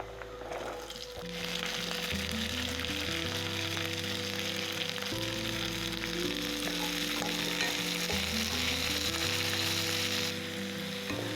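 About 100 grams of small shallots sauté with garlic in a pan for a mushroom pepper fry, a strong, steady close sizzle with occasional stirring, while music plays throughout.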